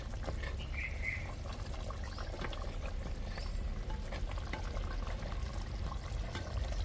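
Telugu goat head curry (thalakaya kura) boils in a pot with plenty of gravy, giving a steady, soft bubbling hiss with a few faint bird chirps in the background.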